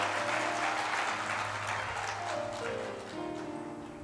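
A seated audience at a Shri Krishna katha gathering breaks into applause, a dense and fairly distant wash of clapping that slowly thins out, with a low steady hum running underneath.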